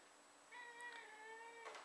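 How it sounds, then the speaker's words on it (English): A house cat lets out a single drawn-out meow, faint and slightly distant, over a quiet room tone with no talking. "Sorry, that's my cat."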